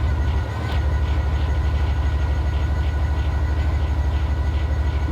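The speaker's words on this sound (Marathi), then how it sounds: "म्हणजे आपली ट्रेन आहे." Electric passenger train in Train Sim World 3 on the London Charing Cross to Gravesend route, a steady loud low rumble with a regular rhythmic wheel beat running throughout, no voices.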